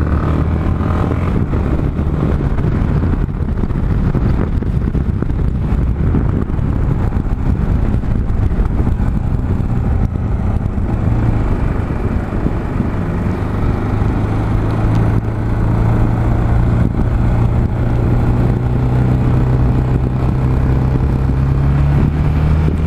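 A motorcycle rides through Corby town centre, its engine droning steadily up close with a rising pitch as it gains speed, wind rumbling throughout and surrounding traffic faintly mixed in.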